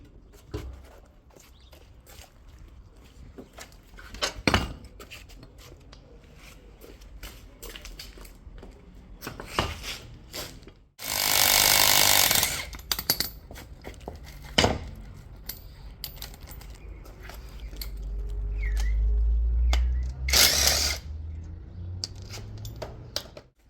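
A wrench loosens a 19 mm bolt on the control arm of a BMW E30 325i during a suspension teardown, with scattered metallic clinks and ratcheting clicks, a burst of harsh scraping mid-way and a low rumbling strain later.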